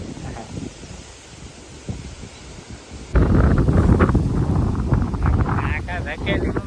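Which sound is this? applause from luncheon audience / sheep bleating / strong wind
strong wind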